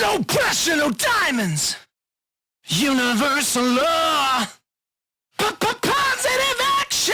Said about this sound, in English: So I'm using the Waves Kramer tape plugin to create this effect.